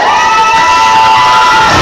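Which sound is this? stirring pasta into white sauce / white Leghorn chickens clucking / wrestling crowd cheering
wrestling crowd cheering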